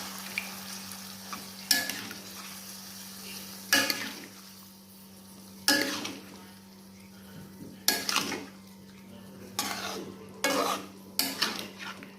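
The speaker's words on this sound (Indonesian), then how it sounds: "Kita kasih air. Aduk lagi." Egg semur stew being stirred in a pot after water is added, a low bubbling simmer punctuated by about seven distinct spoon clanks and scrapes against the pan at a steady pace, no talking.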